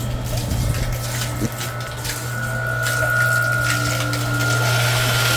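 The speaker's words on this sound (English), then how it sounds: "There's a pump. Pumping it." An Aquastrong 1.5 HP centrifugal jet pump drawing water, running with a steady, loud motor hum and rushing water throughout, a faint whine held above it.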